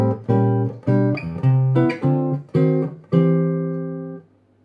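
A slow keyboard passage of full chords over a moving bass line, six or so struck chords, the final one sustained before fading out.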